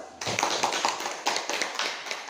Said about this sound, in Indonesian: Ayo kita beri aplaus.